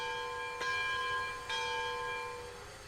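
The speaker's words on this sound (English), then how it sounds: "Why is that bell still ringing?" A bell clangs repeatedly in the train game Railroads Online, two distinct ringing strikes with long sustained tonal decay, fairly faint and steady with no talking.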